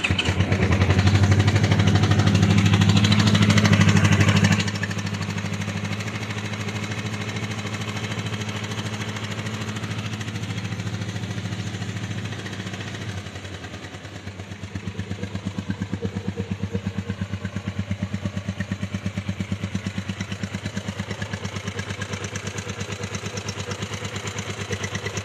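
A faulty Yamaha R25 V2 motorcycle engine starts with a loud burst, then settles into a steady idle, followed by a rougher, pulsing rhythm later on.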